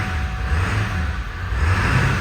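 Ford F-350 crew cab long bed with the 7.3L Power Stroke diesel idling with a low, steady rumble, then a modest rev that swells and settles, heard up close with no talking.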